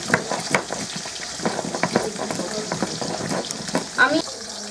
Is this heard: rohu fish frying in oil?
yes